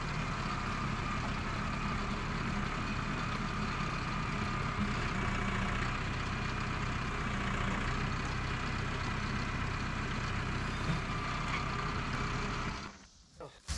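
A tractor engine runs steadily under load while it strains to lift a boom lift with a disconnected hydraulic cylinder, a loud continuous drone that cuts off near the end. Faint talk may sit beneath it.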